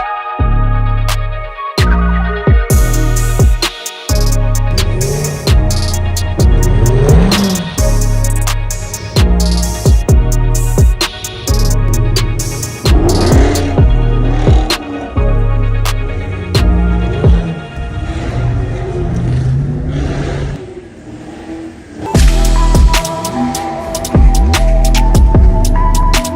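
A lowered, wide-bodied 2022 Chevrolet C8 Corvette driving down a snowy street in winter, its engine throbbing and rising and falling through revs, loud and close, with no voices over it.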